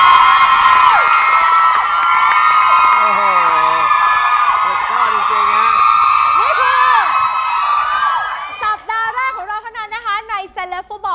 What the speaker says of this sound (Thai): ขอเสียงปรบมือกับก๊อตกับบาส